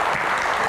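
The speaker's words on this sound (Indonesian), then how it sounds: "Tepuk tangannya lebih meriah" An audience at an evening stage Q&A show claps in a dense, steady burst of applause, brief and moderately loud with no voices over it.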